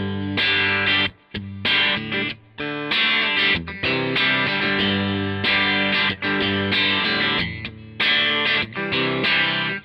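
A Bootlegger electric guitar, Blues 30 model, strummed hard so its tone breaks up into gritty distortion, loud chords ringing with brief gaps between strums, played alone.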